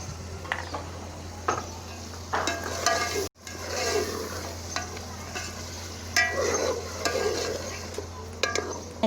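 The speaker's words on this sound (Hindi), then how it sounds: "चिकन को भून रही हूँ" Chicken browning in a pot for village-style yakhni pulao, with a steady close sizzle under repeated scraping and clattering stirs and a brief silent gap midway.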